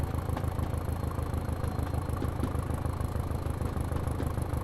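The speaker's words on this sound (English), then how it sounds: "You can hear the thumping, you can hear the engine very beautifully powering away" A Class 205 Thumper diesel train engine runs at full power, a steady loud low throb with constant rhythmic thumping and mechanical clatter, heard from close by without talk.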